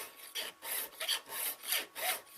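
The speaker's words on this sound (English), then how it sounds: "use the heavy tooth file, but when I put the file in, rather than trying to file flat, I'm going to file at an angle" A heavy-tooth file rasps at an angle to cut a tapered hole in a guard, about five rhythmic back-and-forth strokes, close but fairly quiet.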